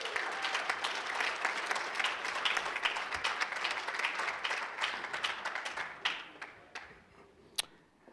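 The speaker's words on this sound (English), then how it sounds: "Again, let's give York Furrier another nice round of applause." Audience applause at the Elmhurst Chamber's 94th annual awards gala, a dense sustained clapping from a large crowd that thins into a few scattered claps before fading out.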